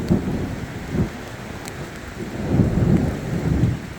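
A thunderstorm rolls in after clear weather, with steady rain falling and deep thunder rumbling in low bursts, loudest near the start and end, accompanied by a sharp brief crack midway.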